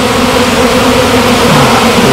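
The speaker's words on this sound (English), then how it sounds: "Look at that pile of bees there" Honey bees swarm around a nucleus hive being expanded with an added box, their dense, steady buzz filling the air close by without a break and with no one talking.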